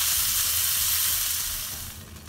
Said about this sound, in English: now let it cook for at least 3 minutes on each side so it will be well done